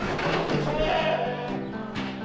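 A youth-raised sheep bleats loudly and close by in a pen, a few wavering, drawn-out calls in quick succession with no talking over them.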